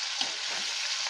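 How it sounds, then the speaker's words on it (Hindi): Onions and tomatoes sizzle steadily in hot frying oil for a Nepali chinde-and-potato pickle, a continuous close hiss with a few faint stirring scrapes and no voices. "तो हमने प्याज और टमाटर को तेल में पकाने के लिए डाल दिया है।"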